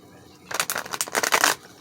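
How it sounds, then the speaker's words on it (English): A Rider Smith tarot deck is riffled and shuffled up close for about a second, a quick run of crisp, papery card flicks that starts and stops abruptly after quiet. "Okay, and we'll go ahead and shuffle this deck"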